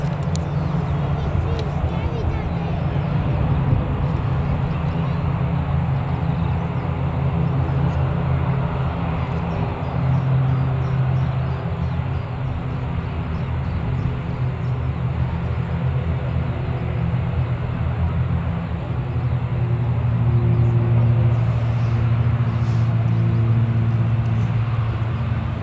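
An EasyJet airliner arriving at Newcastle Airport, a steady low engine roar with rumbling tones that swell slightly near the end, continuous and fairly loud.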